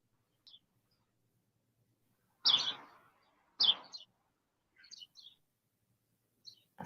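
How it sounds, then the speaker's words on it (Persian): Scattered bird chirps and short tweets ring out against near silence, a few brighter calls close by and louder, others faint and brief, spaced irregularly across the stretch. "صدای خوانش پرنده هاست"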